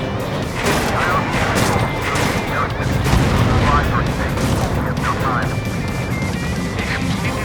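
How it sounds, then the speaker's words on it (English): A missile silo is destroyed by a bunker buster bomb in Ace Combat 7, with continuous loud explosive crashing and rumbling amid jet-flight noise. A voice talks over part of it. "Destruction of first missile silo confirmed."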